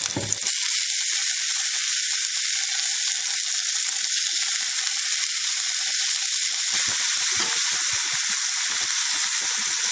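Turkey berries sizzle steadily in hot oil while being sautéed for a masala, a constant loud crackling hiss with no voices.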